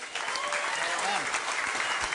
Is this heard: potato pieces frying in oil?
no